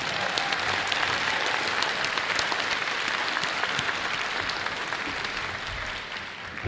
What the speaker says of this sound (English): I invite your applause to these hardworking people.